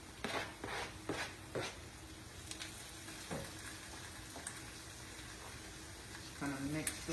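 A spoon stirs chopped cilantro into tuna poke in a hot pan, giving soft scraping clinks and quiet sizzling, with several quick knocks early on and a few more near the end, under faint voices.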